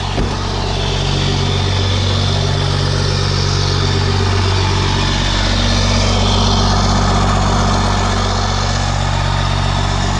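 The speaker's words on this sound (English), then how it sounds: "Real quick, show you a little exhaust note here" A loud, steady diesel truck engine idle, a Dodge 12-valve Cummins, with a deep rumbling exhaust that holds constant throughout, with no talking.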